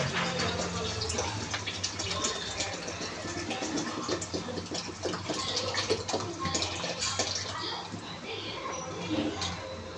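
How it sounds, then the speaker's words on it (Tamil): Water pours steadily into a pot for chicken biryani in a continuous rushing gush, with a person talking over it throughout. "எட்நூறு எம்எல் தண்ணி விட்டு ஊற்றுப்போம்"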